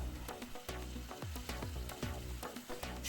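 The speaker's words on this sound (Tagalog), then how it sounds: "Stir it." Saffron risotto rice stirred with hot vegetable stock in a pan, a close series of scraping spoon strokes in a steady rhythm over a soft simmering sizzle.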